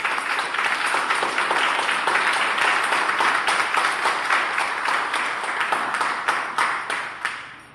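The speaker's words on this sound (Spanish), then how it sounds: "¿Podríamos darle un aplauso a Cristo?" A church congregation applauds Christ in a loud, sustained wave of clapping that fills the room, then gradually thins and fades away toward the end.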